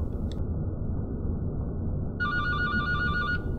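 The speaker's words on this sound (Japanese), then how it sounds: "電話が鳴ってる。" A telephone rings in a free horror video game, a steady electronic ringtone that starts partway through and holds at an even level over a constant low background hum.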